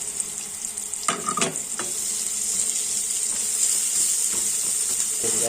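Onions dropped into a hot frying pan with garlic for beef and broccoli, a bright steady sizzle with a few clattering knocks at the start, close and constant throughout.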